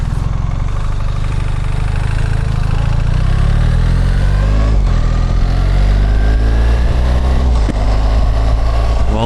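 A BMW adventure motorcycle rides along with its engine droning loud and close as it shifts gears automatically. Engine pitch climbs in stepped rises with brief dips between, under steady wind roar.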